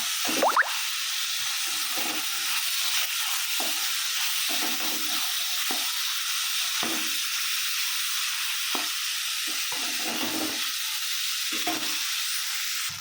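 Onions and ginger-garlic softening in a hot pan for Kerala-style country chicken curry, giving a steady broadband sizzle with repeated scraping stirs throughout, close and fairly loud, with no talking.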